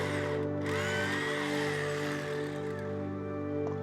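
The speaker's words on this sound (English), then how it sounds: "the STS drill made light work of it" An STS drill breaking up house foundations during a side-foundation renovation, grinding steadily and loudly with a constant droning whine, close by and continuous throughout.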